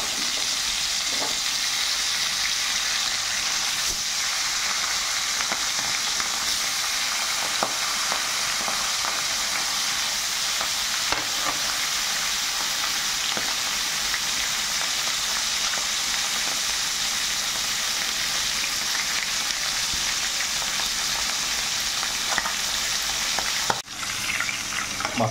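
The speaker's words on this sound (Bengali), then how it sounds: "এখন মাছের মাথাগুলোকে ভালো করে ভেজে নেব।" Fish heads fry in mustard oil, a dense, loud sizzle and crackle that holds steady the whole time, with a few faint scrapes and a brief knock near the end, and no voices.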